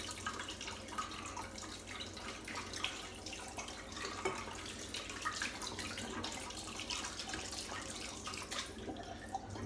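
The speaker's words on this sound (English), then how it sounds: "you do need to rinse your brush out very well." A shaving brush is rinsed under a running tap at a sink, with a steady broadband rush of flowing water and splashing throughout, close by, with no speech.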